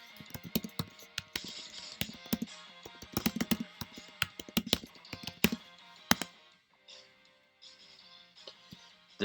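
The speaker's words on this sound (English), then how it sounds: "I'm just typing that in the chat" Rapid clatter of typing on a computer keyboard, close and dry, running in uneven bursts of keystrokes for several seconds before trailing off into quieter tapping.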